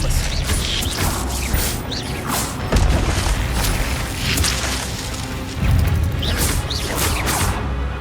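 Expelliarmus spell bursts from Hogwarts Legacy combat, booming magical blasts and crackling impacts layered over busy game noise, with heavier surges repeating throughout amid other spellcasting.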